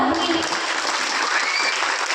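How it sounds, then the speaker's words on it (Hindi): A crowd at a Bhagwat Katha religious discourse breaks into loud, dense clapping that carries on evenly throughout, with a voice briefly audible at the start. "एक बार सभी तालियां बजा लो"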